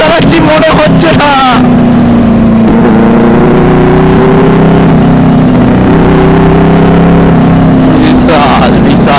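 A motorcycle fitted with an SC Project muffler passes with a loud, sustained exhaust drone that rises and falls in pitch, under excited voices at the start and end of the run.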